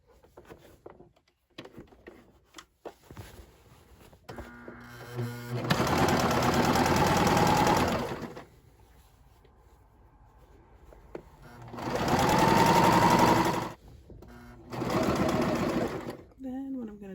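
A sewing machine runs in three steady bursts of a few seconds each, stitching upcycled men's button-down shirt fabric for a skirt. Quieter pauses with faint voice and handling noises fall between the bursts.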